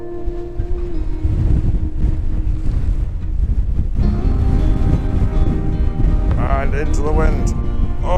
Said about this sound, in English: it's still really, really windy and I can't keep this much steadier than it is